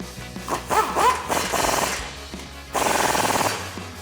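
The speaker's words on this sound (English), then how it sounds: "we'll grab our impact and 22mm socket and start with these 2" An impact wrench fitted with a 22mm socket tightens nuts while a ReadyLIFT CV axle kit goes onto a 2022-2025 Toyota Tundra. It gives two short, loud rattling bursts close by.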